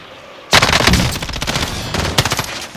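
Rapid automatic gunfire in a video game bursts in suddenly and loud, a dense string of close shots that keeps rattling for over two seconds, with a brief easing before a final flurry.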